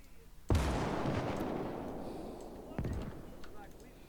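Artillery fire in the WWII game Call to Arms: Gates of Hell, in a USA versus Germany battle: a sharp, heavy blast with a long rolling decay, then a second, slightly softer boom a couple of seconds later.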